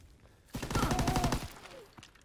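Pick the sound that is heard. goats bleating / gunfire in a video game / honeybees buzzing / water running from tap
gunfire in a video game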